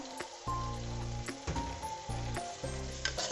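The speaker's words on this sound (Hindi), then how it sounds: "इसमें आलू और छोले ऐड करेंगे बॉईल किए हुए" Boiled potatoes and chickpeas tumble into frying masala in a pan for an aloo chole curry, setting off a steady close sizzle with a few stirring scrapes and clatters, and no voices.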